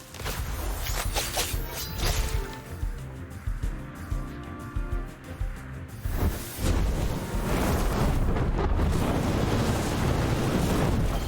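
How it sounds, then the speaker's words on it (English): A fire tornado attack in the creature-battling game Temtem: a roaring, rumbling burst of flame with crackling impacts, swelling loud and continuous through most of the stretch, with a brief dip before surging again. "Nice fire tornado."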